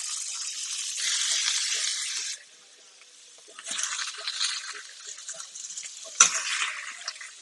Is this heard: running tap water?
yes